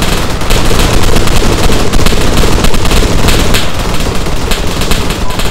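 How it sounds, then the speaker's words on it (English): Loud, sustained automatic gunfire from a squad mag-dumping together in the military shooter Arma 3, with overlapping rapid bursts forming a dense, continuous roar from start to finish and no voices. "we're going to orient 205 degrees and we're going to just mag dump in that general direction"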